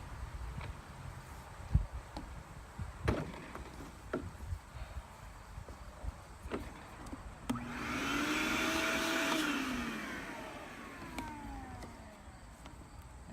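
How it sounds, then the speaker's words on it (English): A vacuum cleaner motor roars up for several seconds, steady and loud, blowing air from its exhaust end, then winds down, after scattered knocks and handling clatter. "You want this on the blowing end of the vacuum so you don't suck the flame in"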